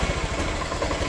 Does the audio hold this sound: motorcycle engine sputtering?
yes